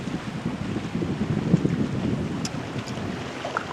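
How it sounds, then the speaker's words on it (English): Kayak paddling on open water, with steady wind buffeting the microphone and soft splashing and water movement throughout, no voices. "Just paddling along."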